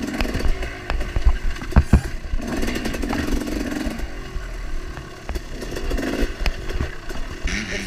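A dirt bike engine revs and bogs during a GNCC off-road race in the woods, near and loud, with shifting throttle bursts, clattering and drops in pitch throughout.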